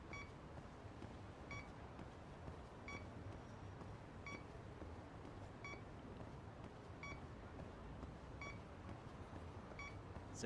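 A signal detector in the video game Lost Judgment gives short, faint electronic beeps at a steady rhythm, about one every second and a half, over a constant low background hum.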